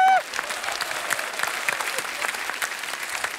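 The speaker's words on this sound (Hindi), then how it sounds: "क्या इनके लिए जोरदार तालियां हैं।" A studio audience at a comedy talk show bursts into sustained applause, dense and even clapping filling the room at moderate loudness right after a brief voice.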